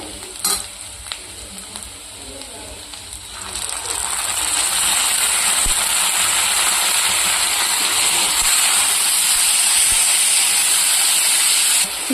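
Chopped tomatoes go into a hot pan for a Rayalaseema puffed-rice uggani. A quiet simmer swells after a few seconds into a loud, steady, close sizzle and hiss that continues to the end.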